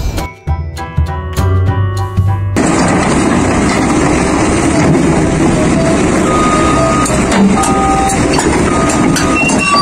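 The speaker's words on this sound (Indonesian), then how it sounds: "Dan ini mobil beko" Heavy machinery engine of an excavator rumbles steadily with a loud, repeating reversing beep on top, continuous throughout and close by.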